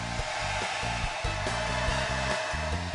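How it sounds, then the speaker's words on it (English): A handheld blow dryer runs steadily while drying hair, a loud, continuous whooshing roar close to the microphone with a faint rhythmic flutter and no voices. "hit it with the blow dryer"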